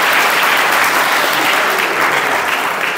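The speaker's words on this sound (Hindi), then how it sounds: "एक बार जोरदार हाथ ताली मार दीजिए।" Wedding guests at a Christian wedding in a village in Assam clap loudly and continuously, a dense, steady wall of applause filling the space from start to finish.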